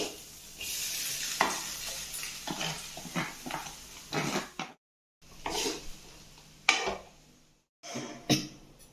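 Cooked, drained rice being stir-fried in a pan for egg fried rice, with a spatula scraping and tossing in irregular bursts over a soft sizzle, briefly pausing to near silence.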